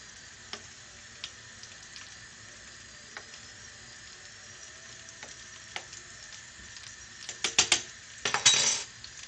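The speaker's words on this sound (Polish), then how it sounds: "i smażymy nasze brukselki" Brussels sprouts hit a hot Asian-style pan, and a short burst of sizzling frying breaks out near the end after quiet kitchen clinks and taps.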